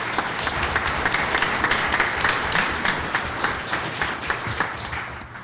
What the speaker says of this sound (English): I'd like you to give all of these people a round of applause.